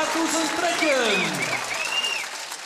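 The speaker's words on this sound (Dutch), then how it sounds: "Applaus voor de kampioenen 2000 trekken." A crowd at a Frisian kaatsen match applauds the champions in a steady round of clapping, while overlapping voices and a cheer sound over it before it tapers off.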